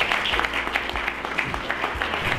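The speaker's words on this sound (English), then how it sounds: "Let's have a round of applause" At a polo event draw, a smallish audience gives brief, scattered applause, individual claps standing out as a thin patter that lasts a couple of seconds.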